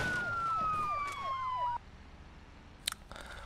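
Police car siren in the BeamNG Drive driving game, a wailing electronic tone sweeping up and down for under two seconds and then cutting off, leaving a quiet engine hum and a brief click.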